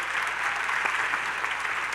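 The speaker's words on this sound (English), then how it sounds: "round of applause for Sudha ji one more time." An audience at a live conversation event applauds steadily, a dense wash of many hands clapping at moderate distance with no voices over it.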